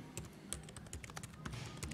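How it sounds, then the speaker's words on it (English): Someone types on a computer keyboard while entering a name into an Excel chart, a quick run of close, crisp key clicks with uneven rhythm and no speech. "I'm just typing that in under the name area there"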